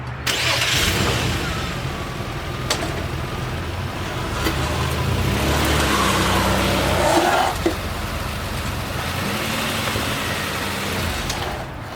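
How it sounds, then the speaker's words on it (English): A car engine runs at a steady idle and then rises as it pulls slowly forward and climbs onto ramps, with a few sharp knocks and clunks along the way and a rumbling low drone throughout. "we're gonna line up the ramps and then we're gonna drive it up on there"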